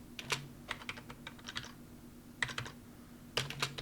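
Someone types a command on a computer keyboard, the keys clicking in short uneven bursts with pauses between them, close and fairly quiet, with no voices.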